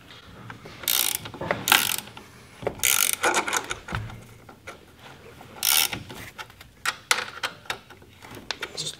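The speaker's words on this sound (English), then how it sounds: "But when I'm just tightening a track for the first couple times, I just go an equal distance and I just do it by counting turns." A ratchet turns the track adjuster on a Ski-Doo Gen 5 snowmobile, loud clicking pawl bursts in repeated strokes with short pauses between them, close by.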